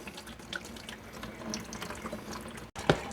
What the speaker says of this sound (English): We'll let this drain until there's nothing coming out of these hoses anymore.